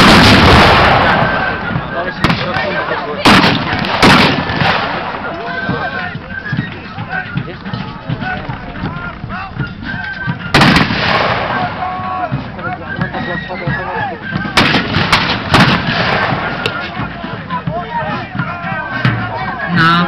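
Napoleonic cannons fire during a battle reenactment at the Koźle fortress, several loud booms spaced through a long stretch of battlefield noise and crowd murmur, with a narrator talking throughout.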